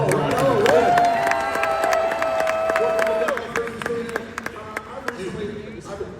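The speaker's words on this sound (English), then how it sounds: "You guys gave me the golf clap" A fan expo panel crowd in Dallas applauds and cheers for John Cena, with steady clapping and whoops that hold loud for a few seconds, then thin out into scattered claps and a fading murmur.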